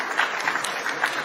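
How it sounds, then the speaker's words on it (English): An audience at an award ceremony in Abuja applauds, with a moderate, steady wash of many hands clapping and brief louder bursts, no voices on top. "Another round of applause"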